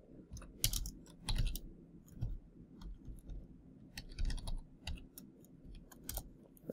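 Fast, irregular clicking of computer keyboard keys while code is typed, close and crisp, in short bursts with brief pauses and no talk.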